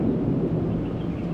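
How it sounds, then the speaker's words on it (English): Thunder rolls on a rainy morning in Rishikesh, a low, steady, muffled rumble that holds through a short stretch with no clear peaks and no voices. "You can still hear the thunder growling contentedly."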